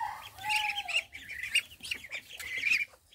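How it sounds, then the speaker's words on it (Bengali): Chinese ducks clamor for food, a dense, continuous chorus of overlapping quacks and calls with brief flapping, loud and close throughout. "এখন আমার হাঁসগুলো খাবার খাওয়ার জন্য কীরকম করতেছে"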